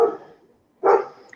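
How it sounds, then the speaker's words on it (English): A puppy lets out two short, sharp yapping barks separated by a brief silence, fairly close and clear with no talk over them. "A puppy barking."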